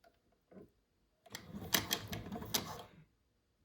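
A Juki 1541s industrial sewing machine runs a short reverse backstitch, a quick rapid burst of mechanical clatter lasting under two seconds after a couple of faint taps, nearby and with no talking.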